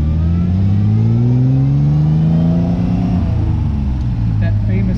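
Engine of a 1967 Austin Healey 3000 BJ8 MKIII sports car revving loud and close, a deep steady drone that climbs in pitch and then settles back to a lower idle-like note.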